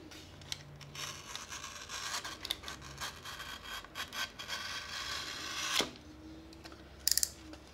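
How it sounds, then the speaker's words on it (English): Foam board being cut with a hobby knife to form a single bevel on the elevator of an FT Twin Sparrow model airplane: a steady, close scraping and rasping stroke running for several seconds, then a brief sharp snap. "we're gonna cut a single bevel on the elevator side"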